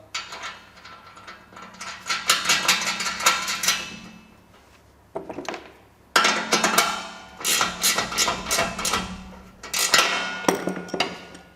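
Nut and bolt being fastened through a Corten steel raised garden bed corner joiner with stainless fittings: bursts of metallic clicking and ratcheting, close and fairly loud, separated by short pauses.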